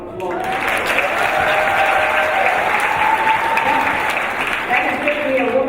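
A crowd at an awards ceremony claps and cheers loudly for an honoree, the applause sustained and full throughout, with voices calling out within the ovation.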